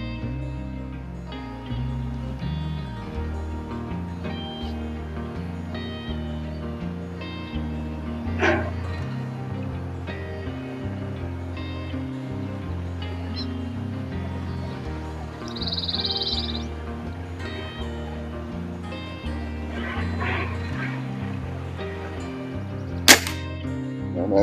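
A Walther LGU underlever air rifle fires one sharp, close shot near the end, after a long stretch of steady low background with an earlier fainter click and crows cawing in the distance.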